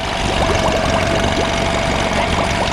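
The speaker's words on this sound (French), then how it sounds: "C'est un moteur qui a quand même une vingtaine d'années." A roughly twenty-year-old sailboat engine running at a steady idle, a loud continuous rumble with a regular ticking knock beating through it.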